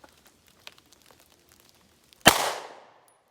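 A single SIG P365 pistol shot fired in slow fire for accuracy, one sharp loud report with a short decaying tail after a stretch of faint clicks and small handling noises.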